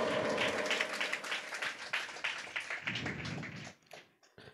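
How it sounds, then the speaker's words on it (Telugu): Church congregation clapping hard at a Telugu worship service, a dense, loud wash of applause that thins and breaks up toward the end. "కొట్టు కొట్టు గట్టిగా చప్పట్లు"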